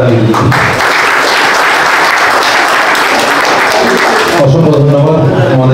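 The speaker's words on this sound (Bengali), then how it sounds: "কিছু যদি ভালো লাগে তো জোরে হাততালি দিন" Loud, dense applause from an audience at a pigeon association prize distribution ceremony, sustained for several seconds before cutting off into a brief voice.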